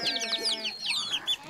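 Chickens cluck and squawk in quick, overlapping bursts close by, the kind of free-roaming birds kept around rural houses in Morocco, with no voices heard.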